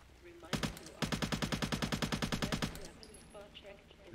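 Assault rifle fire from the video game Interstellar Marines: a short burst, then a longer run of rapid, evenly spaced shots cracking loudly and close for about two seconds, followed by softer game sounds.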